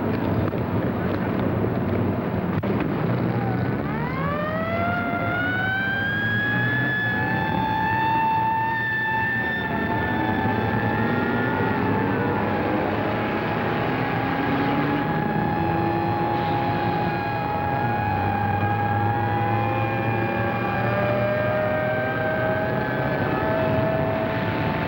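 Four-engine aircraft with one engine on fire approaches for an emergency landing, its engine drone rising and falling in pitch, with shifting whining tones over a steady roar and wind noise.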